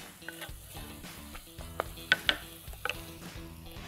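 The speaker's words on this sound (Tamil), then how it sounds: "இப்போது இதில் தண்ணி விட்டுலாம்." A chana dal gravy sizzles and fries steadily in a pan while it is stirred, with light clinks and scrapes of a utensil and a few sharper taps, close and moderately quiet.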